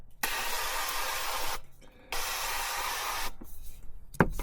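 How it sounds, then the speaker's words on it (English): Two long hissing bursts of aerosol avocado oil cooking spray, close and loud, separated by a brief pause, followed by a short clink. "I need to spray the inside of this so it doesn't stick. We've got avocado oil."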